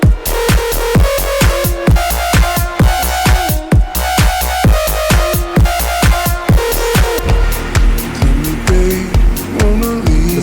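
Electronic kick drum and bass in an FL Studio mix, a loud, steady four-on-the-floor thump with bass underneath driving the beat, then a sparser section with the kick dropping away; no speech.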